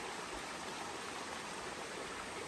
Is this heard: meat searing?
no